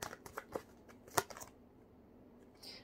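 A tarot card is drawn from the deck with a few light papery flicks and slides, one sharper snap in the middle, faint and close in a quiet room.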